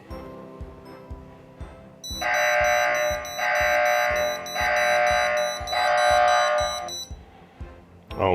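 A Dahua AirShield wireless security system alarm sounds after a door contact is opened in home mode: four loud, shrill electronic blasts of about a second each, separated by short gaps, over a steady ticking background.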